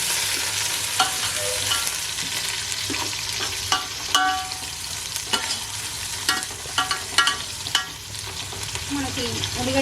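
Onions fry loudly in hot oil for a goat head curry, a constant close sizzle broken by scattered clinks and scrapes as a spoon stirs the pan.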